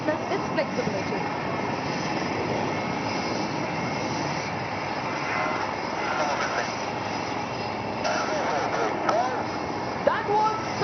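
An ALH Mark 4 helicopter, the weapon-integrated version, performs an air show flying display at Aero India 2021, its steady engine and rotor roar sustained throughout while an announcer talks over it.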